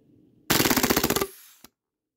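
An AAP01 airsoft gas pistol fires a short full-auto burst, a rapid string of about a dozen sharp cracks in under a second, followed by a trailing gas hiss and one final click.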